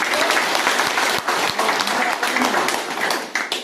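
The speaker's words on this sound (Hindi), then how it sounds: "इनके नाम पर जोरदार एक बार ताली से" At a Paan community meeting, a crowd claps loudly and steadily to welcome Bihar BJP state president Dilip Jaiswal, with a few sharper individual claps standing out near the end and a voice faintly underneath.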